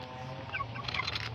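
Chickens cluck and murmur in a short, busy stretch while being fed, soft, close calls layered over a low background hum.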